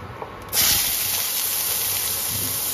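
Chopped onions hitting hot oil in a home kitchen pan during lunch cooking, a sudden loud hiss bursting in after half a second and settling into a steady, close, continuous sizzle.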